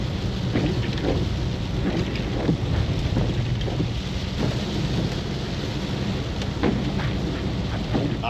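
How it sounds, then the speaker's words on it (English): Steady rain pours down over an Orkney island, a dense continuous hiss with gusts of wind buffeting the microphone and low rumbles, loud and close throughout with no voices. "the rain just had to come, didn't it?"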